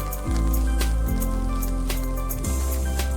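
Heavy rain pours down on a village, close and loud, as water runs through a river nearby. A steady wash of drops and splatter is layered with low, rumbling droning tones that dip in pitch now and then.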